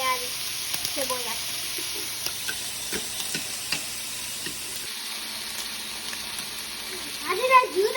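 Bacon, tomato and onion frying in a pan at home for breakfast, a soft steady sizzle with occasional stirring clinks, while people talk at intervals over it.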